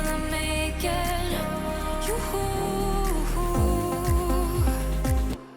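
Deep house cover plays as a full mix, with a steady kick, snares, clap and shaker loop under layered synths and melody, loud and continuous before cutting off abruptly at the end.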